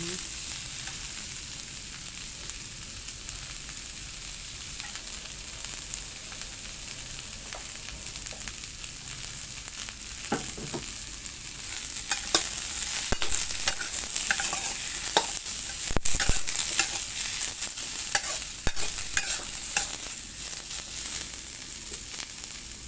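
Snake gourd and leaves stir-fried in a hot pan for a Thai egg dish, a steady sizzle running throughout with spatula scrapes and clatter growing busier and louder in the second half.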